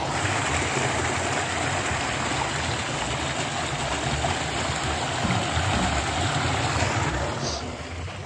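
Water flows from a farm supply into a field irrigation channel, a steady close broadband rush of running water that stays even throughout and fades slightly at the end.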